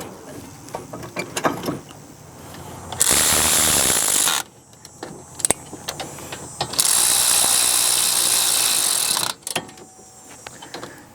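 A hand ratchet tightens the rear brake caliper bolts on a 2013–2017 Honda Accord, making two long bursts of rapid, loud clicking, with lighter metallic taps and handling noises in between.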